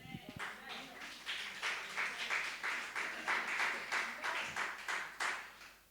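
Church congregation applauding in a burst of rhythmic clapping, steady and moderately loud for several seconds, with a few voices faintly underneath.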